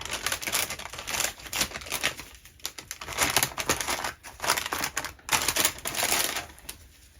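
Close-up crinkling and rustling of a soft packet and wipe, busy and continuous with irregular scratchy bursts, no voices.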